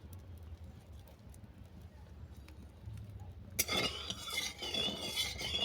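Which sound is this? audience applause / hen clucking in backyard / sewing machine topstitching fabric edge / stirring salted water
stirring salted water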